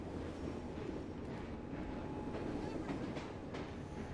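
A train in Assassin's Creed Syndicate rumbles past with a steady, dense low roar and faint rhythmic clatter, continuous throughout.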